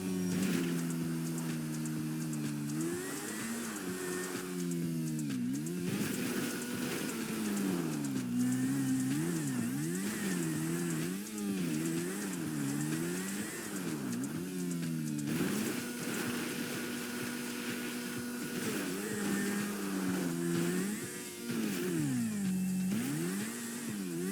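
A motorcycle engine in the video game GTA V revs continuously, its pitch rising and falling with repeated throttle surges, loud and close with no voices.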